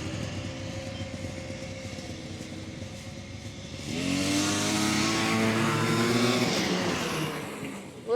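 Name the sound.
vintage snowmobile engine revving to clear out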